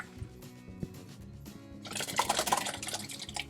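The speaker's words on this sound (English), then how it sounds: "I'm going to take both of them and pour it into a big pot." Tomato soup ingredients are poured into a big pot: a wet, sloshing splash rises after a few quiet knocks and drips and carries on steadily, close and moderately loud.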